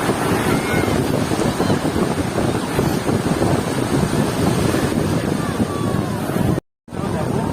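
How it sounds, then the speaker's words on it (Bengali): Loud, steady roar of surf breaking on the beach at Cox's Bazar and wind buffeting the microphone, with people talking over it and a brief dropout near the end. "ঢেউ দেখেন কত বড় একটা ঢেউ আসছে"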